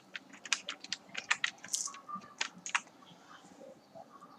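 Quick, light keystrokes on a computer keyboard while coding JavaScript, an uneven patter of close, faint clicks with short pauses.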